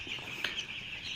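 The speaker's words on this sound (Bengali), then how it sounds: "আপনারা দেখতে পাচ্ছেন আমার ফার্মের 6 দিন বয়সের ব্রয়লার মুরগির বাচ্চা" A dense flock of six-day-old broiler chicks cheeps on a farm, a continuous high chorus of overlapping peeps that is faint and steady, with no talk.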